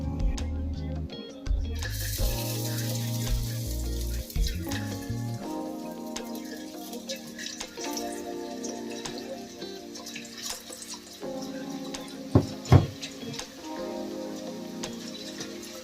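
Kara boondi batter drops into hot oil, giving a close, crackling sizzle that runs continuously alongside tonal background hum, with a couple of sharp knocks near the end and no talk.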